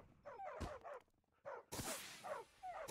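Tamed dogs in a Minecraft FTB Revelation world bark repeatedly in a quick, uneven series of yips and woofs, close and moderately loud, with short pauses between bursts.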